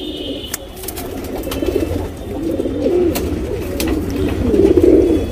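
A pair of pigeons, a male and a female, coo softly in low rolling phrases that repeat and grow louder, with faint clicks and rustles around them.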